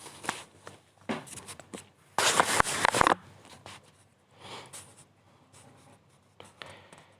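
Equations being written on a board, a sequence of close scratchy strokes and taps in irregular bursts, with one longer loud scrawl midway and quiet pauses between.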